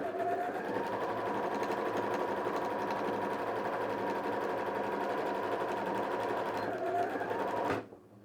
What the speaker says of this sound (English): Just sew the whole thing.